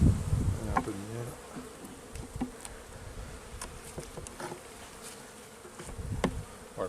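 Honeybees buzz on a hive frame at winter's end during a rescue of a weakened colony, a dense, close droning hum with individual bees whirring past, fairly loud and steady throughout.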